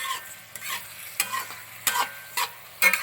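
Vegetable kurma with tomatoes is stirred in a pan, about six distinct scraping strokes at an irregular beat over a soft background sizzle, close and clear.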